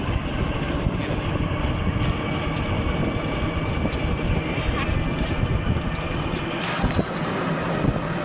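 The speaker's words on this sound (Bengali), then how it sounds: "অটোতে যাচ্ছি, বাতাস, প্রচুর বাতাস" An auto-rickshaw carries a group along a road, with strong wind buffeting in a constant loud rush and engine rumble throughout, and faint voices under the noise.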